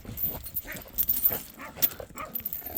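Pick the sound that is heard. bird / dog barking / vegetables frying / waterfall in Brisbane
dog barking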